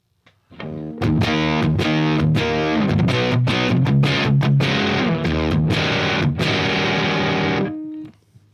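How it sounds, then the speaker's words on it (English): Electric guitar through a HipKitty Chameleon pedal with distortion set at noon and harmonics turned to zero, strumming loud sustained distorted chords with a few choppy accents before ringing out and cutting off. "I'm going to turn the distortion setting back up to noon and turn the harm down to 0"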